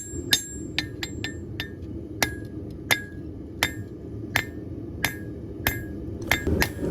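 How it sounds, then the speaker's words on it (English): Light hammer blows forge the tip of a small hunting knife by hand, sounding as sharp metallic taps about once or twice a second with uneven spacing, over a steady low roar of a forge. "When forging the tip, I use really light pressure and consistently rotate it to make sure it doesn't mushroom out on the sides."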